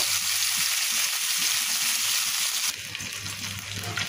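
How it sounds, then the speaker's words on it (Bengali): Thai sarpunti fish frying slowly in a pan over low heat makes a continuous, dense sizzle that drops to a softer level partway through, with faint clatter underneath. "আমি জালটা কমিয়ে দিলাম, এখন আস্তে আস্তে ভেজে নেব।"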